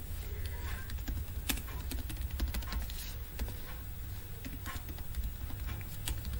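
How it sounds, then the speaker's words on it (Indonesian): A router command being typed on a computer keyboard: a quiet, even stream of light key clicks over a constant background hum, without pauses and with no voices. "Selanjutnya kita ketikkan perintah show running."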